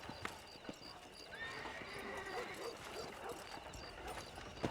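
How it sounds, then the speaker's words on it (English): Horses whinny and hooves clop steadily at a moderate distance in the video game Red Dead Redemption, with a faint voice murmuring underneath. "Let's see if we can't wrangle some horses"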